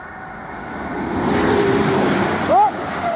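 A train on the Hull to Kings Cross service passes Conington level crossing, a broad steady rumble that swells past the listener at close range. A short tonal horn or squeal cuts in near the end.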